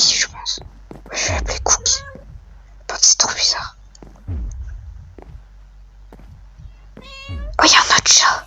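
Several high, synthetic-sounding cat meows from the video game From The Fog come in short bursts, mixed with quiet whispered talking and soft thumps.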